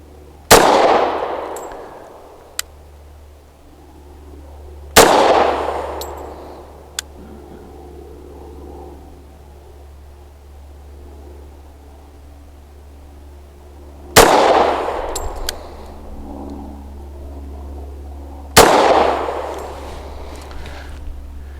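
Taurus TH45 pistol fired double action outdoors: four loud, separate gunshots several seconds apart, each trailing off in a long ringing echo, with no talking.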